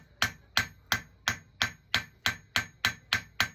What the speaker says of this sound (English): increase the angle on my hammer, slowly rotate the piece as I'm planishing this round side out of it